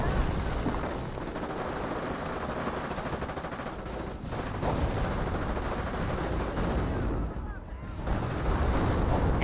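Thompson submachine guns fire in Company of Heroes combat, with dense, continuous rattling gunfire and distant battle noise that runs unbroken and fairly loud throughout.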